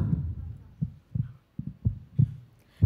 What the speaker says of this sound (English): we are hearing to the heartbeats now. Let the heartbeats go on.